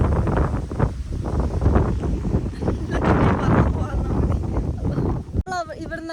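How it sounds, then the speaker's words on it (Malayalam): Strong wind on a hilltop at Vagamon buffets the microphone in continuous roaring gusts, with a voice partly heard beneath it and a brief dropout near the end. "ഇവിടെ ഭയങ്കര കാറ്റാണ്"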